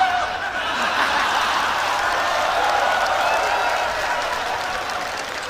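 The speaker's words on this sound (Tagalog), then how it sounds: "Sigawan mga tao." A crowd at a battle rap event reacts to a line with shouting, cheering and applause, a loud continuous wash of voices and clapping that holds steady before easing slightly toward the end.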